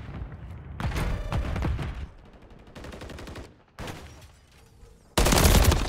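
Bursts of automatic gunfire from Call of Duty MW3 ranked play, with several rapid volleys separated by short pauses and a loud final burst close to the listener.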